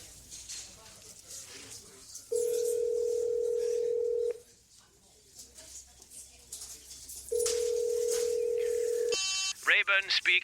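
A steady telephone ring tone plays in two long bursts with a pause between, followed by rapid electronic beeps, in an audio drama set against low background ambience.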